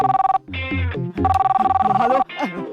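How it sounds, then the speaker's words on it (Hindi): A telephone bell rings in rapid trilling bursts, loud and close, with breaks between rings while people talk over and between them. "कैलाश का फोन है क्या?"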